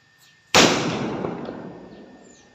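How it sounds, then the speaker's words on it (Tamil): A single sharp Diwali firecracker bang, loud and close, bursting suddenly and then ringing out in a long fading tail over a quiet outdoor background. "இப்போ வெடி போடுறோம்."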